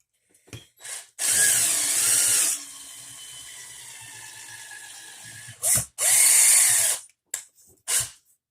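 A screw is tightened into a Crosman DPMS CO2 airsoft replica with a power driver, which gives two long loud whirring bursts, a quieter steady stretch between them and a few short clicks.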